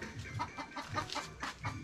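A farm hen clucks in a repeated series of short, rhythmic calls close by, with no talking over it.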